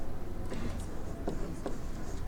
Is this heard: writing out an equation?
yes